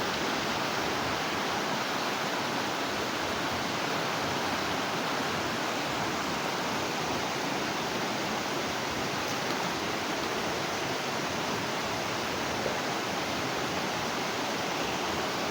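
A flowing stream in a video game rushes continuously and steadily for the whole stretch, a dense unbroken watery hiss with no voices.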